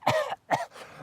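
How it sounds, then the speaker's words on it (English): A man coughs twice in quick succession, two short harsh bursts close to the listener, followed by a softer trailing breathy sound. "He coughed"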